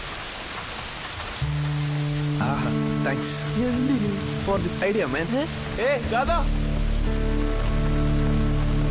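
Steady rain falls throughout, starting lighter and thickening after the first second and a half, while people talk over it and music with sustained tones plays alongside.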